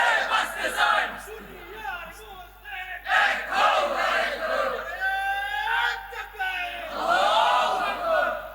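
A crowd at a religious sermon gathering shouting a slogan in unison, with loud rising chants repeated in several waves, echoing through a hall or open venue over a steady low hum.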